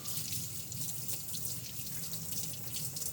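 Hands rinse under a running tap after an electrolysis lab session, a continuous bright splashing hiss of water hitting the sink at moderate, steady level with no talk.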